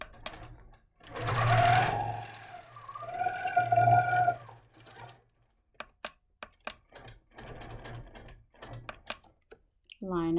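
A longarm quilting machine runs in two bursts as it stitches curved crosshatch lines guided by curved crosshatch and mini scallop rulers, followed by sharp clicks and taps of the ruler being repositioned, with a voice talking between passes.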